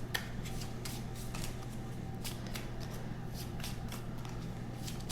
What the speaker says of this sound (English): Again, shuffle.